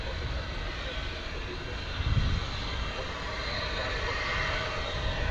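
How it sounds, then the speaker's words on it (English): A Boeing 787 Dreamliner jet airliner bound for Honolulu passes at Dallas/Fort Worth airport, a faint, broad roar that swells briefly and holds at a distance. "that Dreamliner headed off to Honolulu,"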